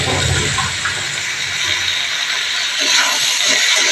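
Potatoes and taro frying in oil with salt and spices give a loud, continuous hissing sizzle, close and steady, with no talk.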